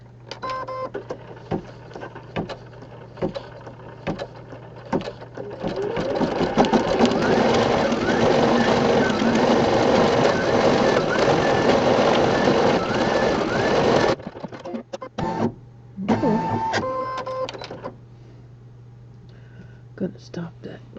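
A home embroidery machine in a 4x4 hoop stitches lettering for a St. Patrick's Day design, a loud steady rapid mechanical whir with a fast needle rhythm for several seconds before stopping, with quieter clicks and brief talk before and after.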